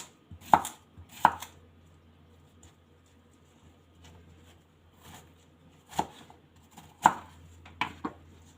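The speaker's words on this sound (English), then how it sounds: "Now the third one, I'm going to cut my cucumber." A knife chops cucumber on a cutting board in sparse, sharp knocks, a couple close together then long gaps, fairly quiet with no talking.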